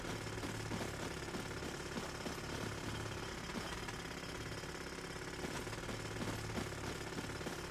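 A mining drill tool runs in the survival video game Once Human, a loud, continuous rapid rattling hammer with a steady mechanical drone and no pauses.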